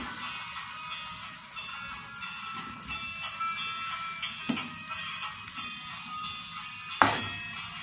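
Curry with chili paste and turmeric simmers in a pot, a soft continuous bubbling hiss at low level, broken by two brief clinks of a utensil against the pot near the middle and the end.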